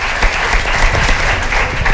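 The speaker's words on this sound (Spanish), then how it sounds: "Un aplauso para Borja." Studio audience applause on a Spanish television talk show, dense and loud clapping sustained evenly throughout at close range.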